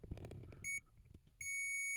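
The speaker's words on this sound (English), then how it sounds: "when we're getting that beep, that means that the path from here to somewhere else on this board means that it is actually connecting" A multimeter beeps on a continuity test while probes touch pins on a broken video game circuit board: two steady electronic tones, a short one and then a longer sustained one, close and clear over faint handling noise.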